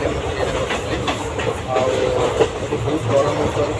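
A moving passenger train bound for Hyderabad, heard from on board as a steady rumbling roar with rhythmic clatter of the wheels, continuous and close, with faint voices beneath.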